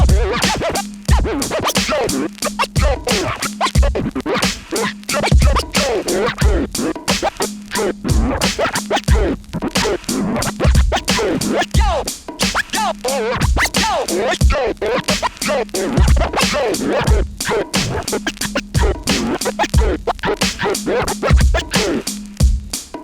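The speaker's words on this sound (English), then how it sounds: "if there's like a vocal scratch sample. That sounds really cool." Vocal scratch sample cut on a Rane Seventy A-Trak Signature Edition DJ mixer with fader FX, a dense run of sharp rhythmic scratches and stuttering chops, loud and continuous over a steady low beat.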